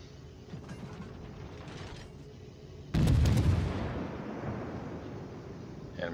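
Naval gunfire from a warship video game set around a smoke-screen cruiser: a sudden loud broadband blast about halfway through, decaying into a rumbling tail over steady engine and battle ambience.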